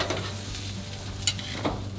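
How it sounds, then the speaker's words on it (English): Pork tenderloin sizzles on a hot grill with a steady, close hiss and a couple of sharp pops and crackles partway through. "I want to put this guy right here to get that sizzle in between the grill marks"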